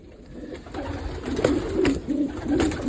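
Pigeons in a breeding loft give soft, repeated cooing calls at moderate distance, several low coos spread through a quiet, airy background.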